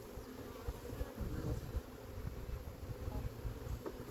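Honey bees buzz around a hive being split from a wild swarm, a dense close hum with wavering swells and occasional louder passes near the ear, with no talking.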